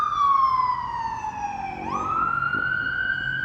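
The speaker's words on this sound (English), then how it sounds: "ambulance." An ambulance siren wails up close, sliding steadily downward, then sweeping back up into a sustained high tone, loud and alone without talk.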